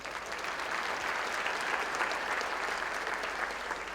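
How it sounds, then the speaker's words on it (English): A large audience at an anniversary celebration gala applauds a church choir, a dense, even roar of clapping that stays steady and fairly close throughout, with no voices over it. "let's give them another round of applause"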